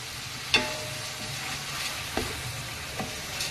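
Onions with salt frying in a pan for chicken biryani, a steady soft sizzle with a few sharp stirring scrapes and clacks at intervals, close by and alone.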